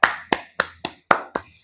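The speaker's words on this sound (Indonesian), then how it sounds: "kasih tepuk tangan dulu untuk Widya" Elementary school children in a classroom clap together for a classmate: six sharp, evenly spaced claps in unison, close and loud, each with a short ringing decay.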